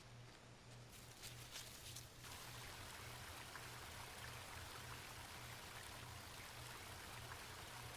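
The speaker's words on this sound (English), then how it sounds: "Path ended on a cold-looking river." A cold river flows steadily in the game Home, a continuous watery rush with a low hum underneath, evenly loud from start to finish with faint clicks early on.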